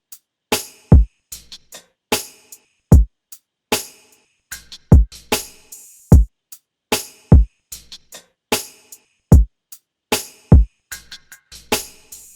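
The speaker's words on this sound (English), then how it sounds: "just an open hat that sounds like this" An open hi-hat sample in a smooth R&B-style beat, repeating in a steady rhythm of sharp bright hits with short decaying tails, alongside punchy low kick thumps, loud and close with no voices.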